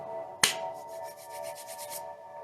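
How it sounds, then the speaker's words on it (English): A single sharp hand clap rings out once near the start during a TikTok live healing session, followed by a low steady room hum with faint rubbing noise. "if that clap was loud, I apologize"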